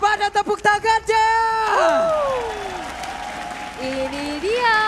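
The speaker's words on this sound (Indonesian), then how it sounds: "EPL Arena, pada tepuk tangannya." A burst of crowd applause in a large arena during a Mobile Legends esports match, then sweeping electronic tones and effects that swell loudly over the cheering.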